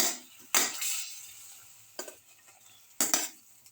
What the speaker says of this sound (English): thoroughly mix the spices with the rest of the mixture.